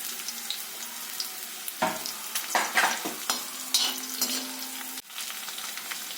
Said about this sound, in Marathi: लालसर होईपर्यंत आपण कांदा भाजणार आहे